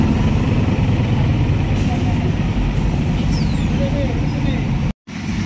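A truck tractor head pulling a multi-axle trailer brakes under a loud, constant engine rumble, with air-brake hiss and short squeals mixed in.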